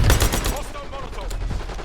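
Gunfire from a shotgun in the video game Call of Duty Black Ops 6 rings out in rapid, loud, dense bursts that pack the opening second and then thin into a steady rattle, with faint game voices underneath.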